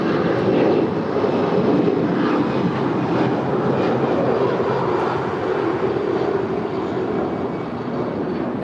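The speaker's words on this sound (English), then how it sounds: "And that is Alaska 881 off to Seattle. It's a 10-year-old A320." A ten-year-old Alaska Airlines A320 departs runway 25 right at LAX bound for Seattle, its loud, steady broadband jet roar filling the air without a break.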